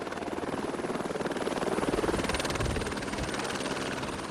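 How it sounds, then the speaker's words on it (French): A helicopter flies from Nice to Monaco over the Mediterranean coast, its rotor thudding in a fast, steady pulse over a loud engine whine, heard from close by with no voices. "Pour faire une entrée remarquée à Monaco, autant prendre l'hélicoptère."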